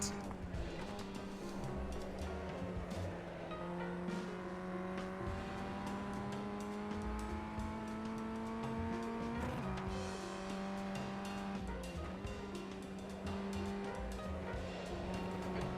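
Ray FF1600 race car lapping Oulton Park in a sim racing game, engine tones climbing and dropping as it brakes and accelerates, with tire squeal and a continuous close, loud drone.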